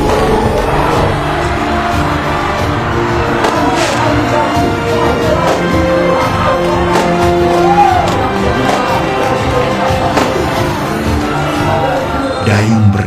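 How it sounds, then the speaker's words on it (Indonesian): A large crowd of spectators cheers and shouts continuously at a traditional rowing race in Kuantan Singingi, a dense, steady roar of many voices at middle distance with no single voice standing out. "Sorak-sorai penonton menembus angkasa"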